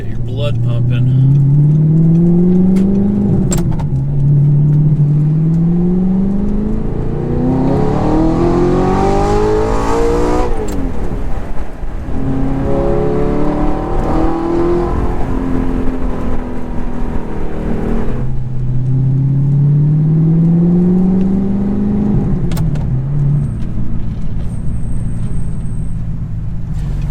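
An Audi R8 V8 engine revving hard at high RPM inside a tunnel, rising whines climbing and falling through several pulls, loud and close, with someone talking over parts of it.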